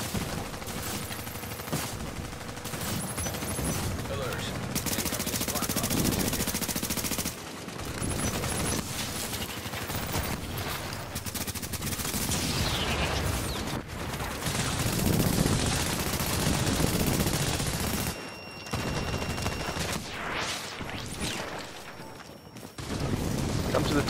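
Sustained turret gunfire in the shooter game Tomato Team: Rogue Chronicles, dense bursts of rapid shots and booms running nearly continuously at loud level, with brief pauses, under players talking.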